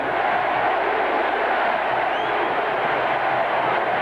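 Stadium crowd at a 1983 Miami versus Florida State college football game, a dense, loud and continuous roar of cheering that fills the whole stretch with no break.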